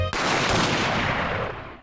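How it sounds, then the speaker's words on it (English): Gunshots from the courtroom adventure game The Great Ace Attorney, two shots fired almost at once and merging into a single loud, close blast with a short ringing tail, with no voices. "I think there were 2 gunshots."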